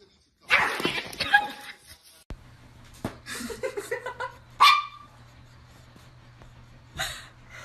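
A pet dog barks in sharp bursts and whimpers between them, loud and close, with short pauses of quiet and a brief yip near the end.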